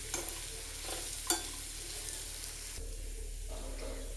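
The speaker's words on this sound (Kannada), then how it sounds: "ಫ್ರೈ ಆಗ್ತಾಯಿದೆ ಈಗ." Coconut mustard seasoning for chitranna rice fries in a pan with a steady hiss and crackle, while a spoon scrapes and stirs with a few sharp knocks near the start.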